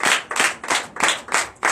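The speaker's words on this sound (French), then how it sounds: "Donnez l'acclamation à Jésus." Church congregation clapping together in rhythmic acclamation during a Sunday service in Comè, Benin, with steady bursts of claps repeating about every third of a second, loud and close, with no talking.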